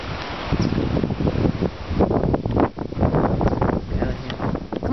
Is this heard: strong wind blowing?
yes